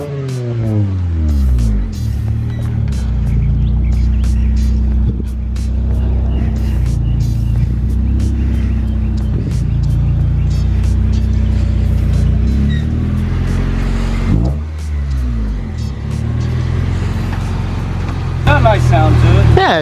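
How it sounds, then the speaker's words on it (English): A Honda Civic EK with a single-cam engine runs close by at a steady, throaty idle with brief rises in revs. Voices are heard talking over the engine. "it's a single cam, but it's got a nice tone to it"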